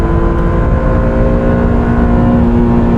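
Honda NSX or Nissan GT-R NISMO launching at full throttle in launch mode, a loud, close, sustained engine roar with a steady droning pitch throughout, no voices over it.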